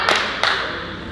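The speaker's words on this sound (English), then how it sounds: "We're also going back to clapping with our elbows together at the bottom, going to the top." Cheer team members clap with their elbows together, two sharp claps a fraction of a second apart in a reverberant gym, with steady room noise behind them.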